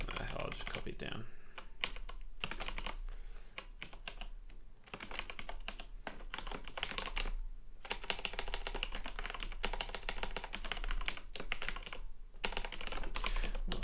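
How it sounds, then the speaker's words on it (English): Fast, uneven clatter of keys on a computer keyboard, close and continuous with brief pauses, under someone speaking quietly at times. "What's with my typing tonight?"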